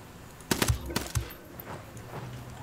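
A few quick bursts of gunfire from the video game Ghost Recon Wildlands, clustered shots followed by quieter background ambience.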